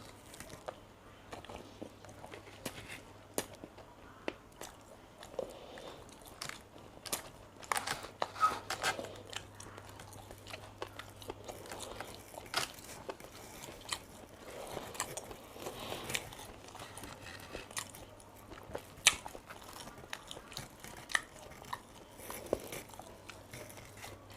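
Close, quiet chewing of ham pizza with spicy sauce: soft crunches and bites repeat irregularly throughout, with no talking.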